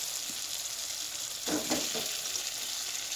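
Boiled eggs and potatoes added to thick egg masala in a pan: a soft continuous sizzle with a brief burst of stirring and scraping in the middle, close and fairly quiet, no talk.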